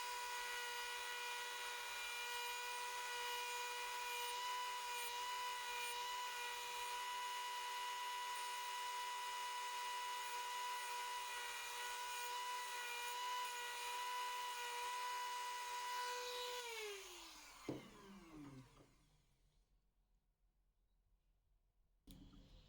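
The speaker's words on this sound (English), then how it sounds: "I'll finish up with my Dremel tool" Dremel rotary tool shaping a wooden trout lure, a steady high-pitched whine that holds for most of the time, then spins down and stops with a few faint clicks.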